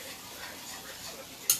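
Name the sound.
whisking Alfredo sauce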